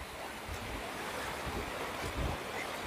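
River water near a dam flows in a steady, broadband rush with low rumbling swells, close and continuous with no voices.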